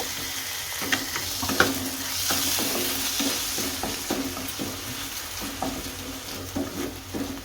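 Rice frying lightly in hot ghee over a medium flame, stirred now and then: a steady sizzling hiss with soft, irregular scraping strokes running through it, close and fairly quiet, with no voices.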